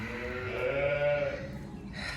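A single sheep bleats close by in a lambing pen where ewes have just given birth, one wavering call of about a second set against a steady barn background with no talk.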